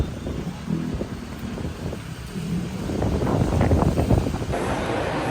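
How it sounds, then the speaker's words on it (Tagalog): Strong typhoon wind roars steadily against the microphone, building louder toward the end, with no voices. "yung hangin po nakakatakot at medyo malakas"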